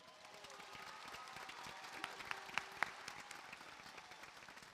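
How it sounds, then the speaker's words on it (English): Audience applause at a high school graduation ceremony, a faint, distant spread of steady clapping from a large crowd with a few louder individual claps standing out midway. "a warm hand clap to our family and friends"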